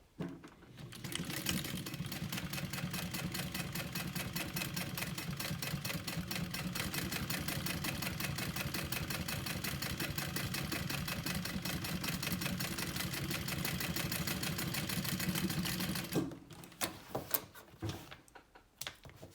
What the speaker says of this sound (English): we're gonna just top stitch an 1/8 inch from the seam there